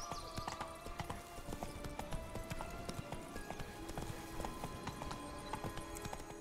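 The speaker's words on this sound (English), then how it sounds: "Yep, Demon Horse." Demon Horse hooves clip-clopping steadily in The Witcher 3: Blood and Wine, a continuous run of hoofbeats with a brief whinny, under game ambience.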